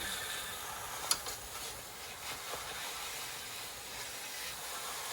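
A water spray rinsing down a bicycle gives a steady, quiet hiss with a few faint ticks, continuous and without voices.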